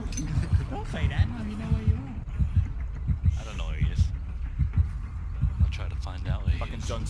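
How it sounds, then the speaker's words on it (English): A killer's heartbeat terror radius throbs in the video game Dead by Daylight, a steady, rhythmic low thumping under excited voices chatting throughout. "Because I can hear a fucking heartbeat."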